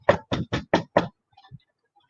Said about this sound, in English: there was a loud banging on his door.